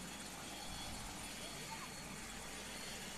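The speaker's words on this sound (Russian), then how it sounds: "Прилетел вертолет" A helicopter arriving outside a St Petersburg metro station after an explosion, a steady, faint, distant rotor drone that continues throughout, with talking over it.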